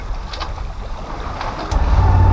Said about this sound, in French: Belle vague qui arrive.